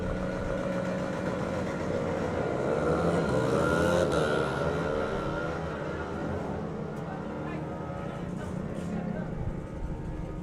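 Junior drag bikes roaring down a drag strip at a summer nationals meet: a loud, sustained engine howl that rises and sweeps in pitch, with a voice talking underneath.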